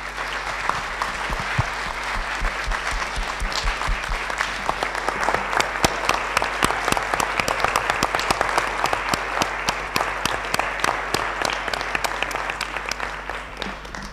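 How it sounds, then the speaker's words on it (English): An audience at a roundtable event breaks into a sustained round of applause, dense steady clapping from many hands filling the room for the whole stretch, with a murmur of crowd underneath. "So please stand up and let's give a round of applause."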